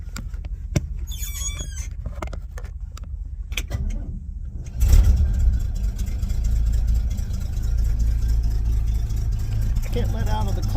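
A 1972 Chevy engine cranking and catching, first with a few clunks and a voice talking, then settling into a loud, steady low running rumble that stays close and continuous.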